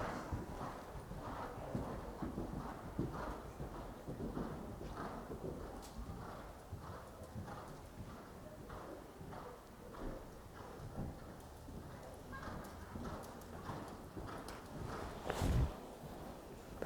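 Horse cantering on an arena surface during flatwork schooling, with a steady rhythmic run of soft hoofbeats at moderate distance, faint and continuous under light ambient noise.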